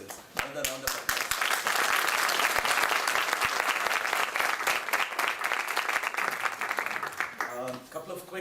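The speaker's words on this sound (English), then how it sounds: "Another round of applause." Audience applause after a bhajan concert at a Bradford, UK community event, a full hall clapping loudly and steadily for several seconds before fading out, with a voice starting to speak at the end.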